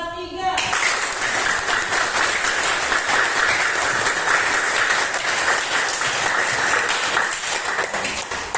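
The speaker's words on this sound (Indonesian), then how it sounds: "coba lakukan tepuk tangan sekeras mungkin" A classroom of children clapping their hands as hard as they can, a loud, dense burst of applause that starts abruptly after a brief moment and holds steady to the end, with some voices mixed in.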